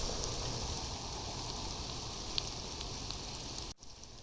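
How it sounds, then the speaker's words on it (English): Steady rain falls on a backyard food forest garden among tomato plants, a dense, even hiss of drops close around, continuous and alone with no talking, briefly cut off near the end. "Can you hear the rain? It feels so good."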